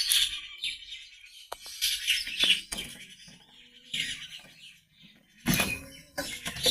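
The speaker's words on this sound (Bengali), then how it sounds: "দেখেন পাখিদের গুণগান আপনারা সবাই শুনতে পাচ্ছেন ঠিক কতটা সুন্দর।" Birds chirping and calling outdoors in a Rangpur village, with bright intermittent tweets rising and falling over faint background noise and a few louder bursts, with no one talking.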